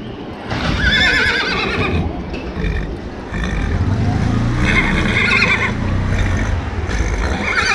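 Horses ridden during an Independence Day celebration in the village of San Bernardo Mixtepec neigh loudly at close range, with repeated whinnies over outdoor crowd noise and some voices.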